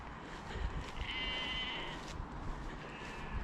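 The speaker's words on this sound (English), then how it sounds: "Sheep showing some interest in us approaching." A sheep bleats once, a wavering cry from a short distance, over faint outdoor background noise.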